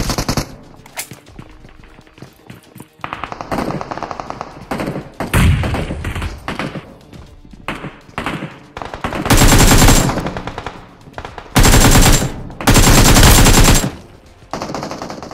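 Bursts of automatic gunfire in the battle royale game BGMI, loud close volleys alternating with quieter distant shots and thuds, several long sustained sprays separated by brief lulls.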